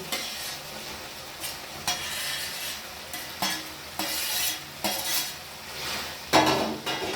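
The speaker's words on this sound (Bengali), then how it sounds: "এইবারে এই পুঁই শাকটা আমি পোস্ততে দিয়ে দিচ্ছি" Malabar spinach stirred into poppy seed paste in a pan, with repeated scraping strokes of a utensil against the metal and a soft sizzle underneath, close and fairly loud, no talking.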